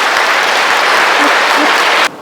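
Dense audience applause for a parish priest at a Lenten lecture in a Catholic church, loud and steady, then cutting off abruptly near the end.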